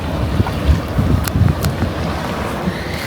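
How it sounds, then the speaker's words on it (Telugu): A water taxi boat pulls away on open water near Vancouver, a low rumbling motor blended with strong wind buffeting and lapping waves, steady throughout with no talk. "వాటర్ ట్యాక్సీ వెళ్తుంది ఇప్పుడే, ఎవరినో ఎక్కించుకొని."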